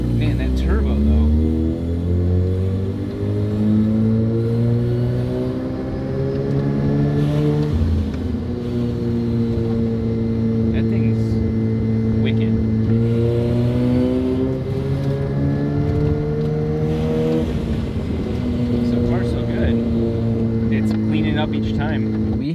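FC car with a turbo engine running after sitting for 15 years, idling with a rough, steady hum and revving up through several long, rising throttle pulls, close and loud, while people talk over it.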